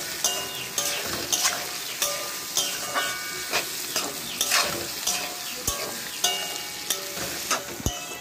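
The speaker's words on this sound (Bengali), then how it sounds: "পেঁয়াজটাকে ভালো করে ভেজে নেব" Onions sizzle and crackle steadily in hot oil, with repeated scraping and clacking as a spoon stirs the pan, close and fairly loud.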